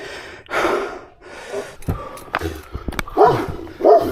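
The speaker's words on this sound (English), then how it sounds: "It really is a big dog." A big dog barks from behind a fence, with several loud, close barks clustered near the end amid breathing and rustling noises.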